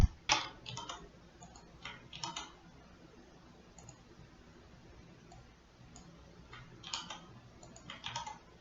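Keys tap on a computer keyboard in short scattered bursts with pauses between, fairly close and quiet, during product-listing data entry.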